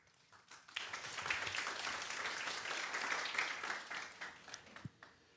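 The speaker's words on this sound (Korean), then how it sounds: "네, 큰 박수로 맞이해 주시기 바랍니다" An audience breaks into steady applause that swells, holds for several seconds, then thins out into a few last claps.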